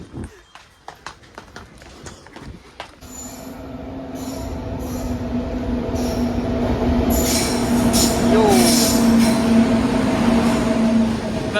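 A train rolls through Bhachau railway station, starting with rhythmic wheel clacks over rail joints, then building into a loud, sustained rumble with a droning hum and high metallic wheel squeals, while people talk faintly nearby.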